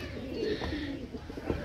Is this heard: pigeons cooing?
yes